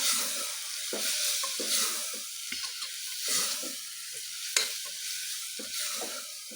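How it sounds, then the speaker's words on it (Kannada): Garam masala is stirred into khushka masala frying in a pan, giving a steady bright sizzle broken by repeated scraping strokes of a spoon in an uneven rhythm, close and alone. "ಇದಿಷ್ಟನ್ನು ಹಾಕಿ ಮತ್ತೆ ಚೆನ್ನಾಗೆಲ್ಲ ಮಸಾಲೆಗೆ ಮಿಕ್ಸ್ ಮಾಡ್ಕೊಳ್ಳೋಣ"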